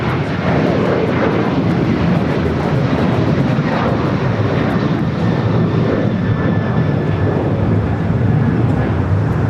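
Loud, steady jet engine roar of a Qatar Airways Airbus A350-1000 taxiing at LAX, a broad continuous rumble heard up close that holds without pause.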